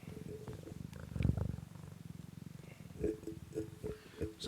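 A cat purring steadily and close, a low rhythmic rumble that swells briefly, followed by a few short voiced sounds from the cat near the end.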